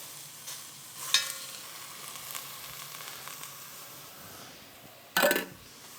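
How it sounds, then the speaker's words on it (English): Biscuits sizzle steadily in a hot pan, with two sharp scraping clatters as a small metal spatula presses down on them, the second louder near the end. "I'm going to take a small metal spatula and just kind of push that down"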